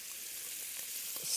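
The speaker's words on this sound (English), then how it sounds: "So next goes in one diced onion, and we just want to cook that off until the onion is softened." Diced onion fries in a pot, giving a soft, steady sizzle and hiss that rises slightly near the end.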